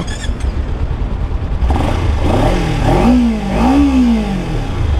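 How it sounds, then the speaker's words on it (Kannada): A 2023 Kawasaki Ninja 300 motorcycle engine turns over on the self-starter and settles into a steady idle, then rises briefly in pitch with a couple of throttle blips, close and loud. "ಇಂಜಿನ್ ಸೌಂಡ್ ಈ ಥರ ಕೇಳಿಸುತ್ತೆ"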